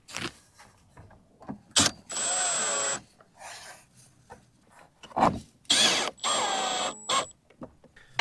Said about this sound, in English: So we just got to screw this on the inside now.